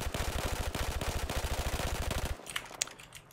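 Full-auto weapon fire in the Battlefield 4 video game: a fast, even stream of about twenty-five loud shots in a steady rhythm that stops abruptly, followed by a few faint clicks and rattles.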